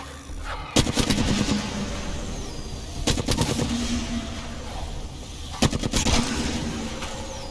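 Automatic weapon fire in the video game Apex Legends, three loud bursts of rapid shots at roughly 0.7, 3.1 and 5.6 seconds, each followed by a lingering rumble and game ambience.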